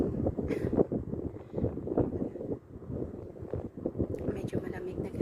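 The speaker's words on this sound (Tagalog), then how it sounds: "Medyo mahangin na" Outdoor wind buffets the microphone in a steady low rumble, with a person speaking over it.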